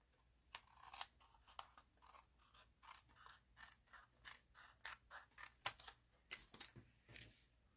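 Scissors snip repeatedly through paper for a stamped craft treat, giving a quick, irregular series of close, crisp cuts with short pauses between them.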